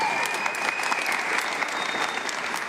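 Audience at a New York City mayoral press announcement breaks into steady applause, a dense wash of clapping held at even loudness for a few seconds, with a faint tone lingering underneath.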